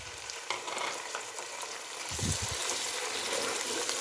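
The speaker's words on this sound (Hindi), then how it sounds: "ये थोड़े से चिकन प्याज फ्राई हो गए हैं, तो इसके अंदर मैं चिकन ऐड कर दूँगी।" Chicken and onions frying in a pan, a continuous close sizzle with brief stirring scrapes partway through.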